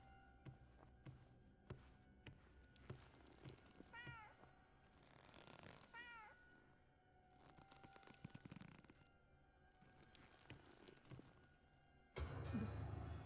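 A cat meows twice in the horror game Junji Ito Maniac: An Infinite Gaol, short rising-falling cries set within dark, shuffling ambient game sounds, ending in a sudden louder low rumble.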